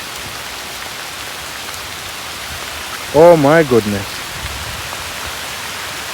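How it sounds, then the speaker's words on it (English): Steady rain hisses all the way through, and a person speaks briefly in the middle over the downpour. "Once again, it is nothing but rain."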